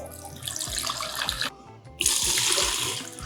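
Peanut butter bourbon pours for a cocktail in a close liquid stream that gurgles and splashes, breaks off briefly, then resumes more fully.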